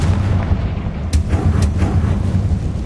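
Confringo fire spell explosions in Hogwarts Legacy, loud deep booming blasts with rumbling low end and a couple of sharp crackling bursts, close and continuous, with no talking.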